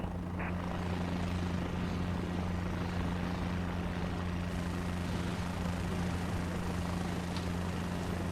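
Helicopter lifting off from a helipad in Microsoft Flight Simulator 2024, a steady low rotor and engine drone holding constant throughout, close and continuous with no talk.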